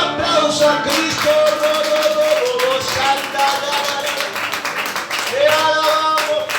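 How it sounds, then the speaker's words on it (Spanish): A church congregation at a revival service claps loudly and rhythmically in praise, hand claps mixed with singing and music throughout, with voices carrying over the clapping. "denle un fuerte aplauso a Cristo."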